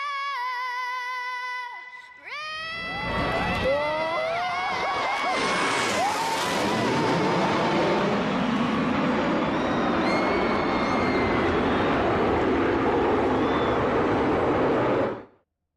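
Aircraft flyover at a road course truck race, a loud roar swelling over a cheering, whooping crowd just after the anthem's sung end, holding steady before cutting off.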